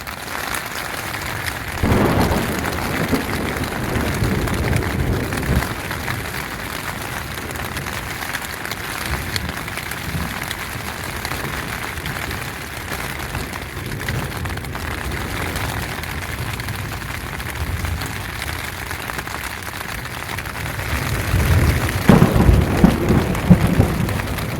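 Heavy rain from a severe thunderstorm at Oshkosh, a steady loud roar of downpour throughout with low rumbling swells near the start and a stronger surge toward the end.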